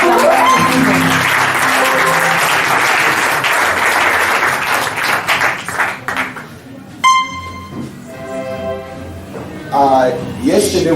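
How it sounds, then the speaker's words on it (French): An audience at a church program applauds loudly and steadily for several seconds before the clapping fades, followed by someone speaking. "Can we put our hands together for attending the program?"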